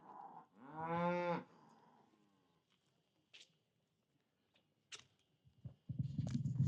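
A cow lets out one loud, drawn-out moo near the start, followed by quieter farm noises and a few scattered knocks, with a rough low rumble rising at the end. The animals stand on a farm pad.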